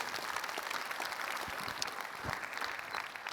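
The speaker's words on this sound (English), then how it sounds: "So, a round of applause for that." A round of applause from a conference audience at a closing session, steady dense clapping heard from a distance at moderate level, with no voices over it.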